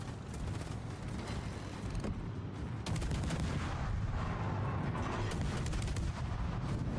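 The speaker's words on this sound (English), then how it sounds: "Torpedoes, direct front." Torpedo hits in a Civilization VI naval battle come as a rough, continuous roar of blasts and rumbling booms, loud and dense throughout with sharper cracks in between.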